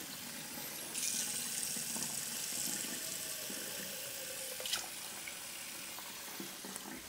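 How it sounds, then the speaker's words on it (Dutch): Kitchen tap running into a pan to fill it with about 500 millilitres of water, a steady splashing rush that starts after a second and continues evenly, close by and fairly quiet, no voices. "Dan zet ik een pan water op."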